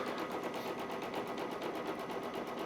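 A Brother Celeste CX1E sewing and embroidery machine stitching at up to 1,050 stitches per minute gives a rapid, evenly pulsing mechanical clatter that runs steadily throughout at a fairly soft level, with no talking.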